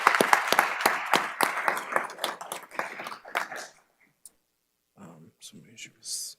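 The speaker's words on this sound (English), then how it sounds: "If I could just get a round of applause for him." An audience applauds a long-serving teacher at a school board meeting: a few seconds of scattered clapping that fades out, followed by brief talk.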